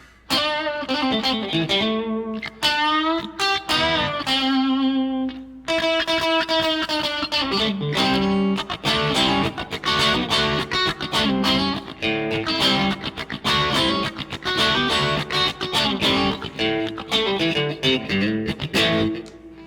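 Electric guitar on the neck pickup runs through a Maxon SD-9 Sonic Distortion pedal, opening with bent sustained notes and chords, then moving into a steady, loud run of choppy distorted riffing and single notes.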